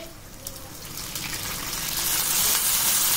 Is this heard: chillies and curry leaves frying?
yes